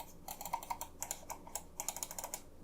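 Main buttons of a White Shark Maximus gaming mouse clicking in a quick, uneven series of sharp, close, soft-toned clicks with no talk.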